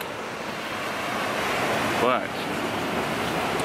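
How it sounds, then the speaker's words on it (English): Small ocean waves break and wash at a beach where surfers ride them, a steady broad surf roar with gusty wind on the microphone and a brief spoken word over it. "got some little waves out here and little surfers trying to surf them."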